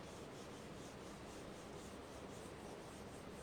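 Writing is rubbed out on a classroom board in a maths lesson, a faint, steady scrubbing and rubbing that continues evenly and quietly throughout with no voice over it.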